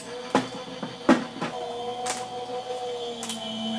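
A die cutting machine clatters and hums at close range, with a few sharp clicks and clunks over a steady mechanical whir.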